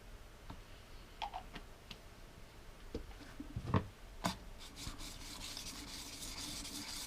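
A metal chisel is rubbed by hand across fine sandpaper to sharpen it, making quiet, close scratching strokes with scattered light taps and scrapes and a denser rasping toward the end.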